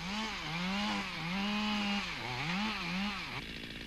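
A chainsaw limbs a felled tree, its two-stroke engine close and loud, pitch rising and dipping repeatedly as the chain bites branches, then dropping at the end.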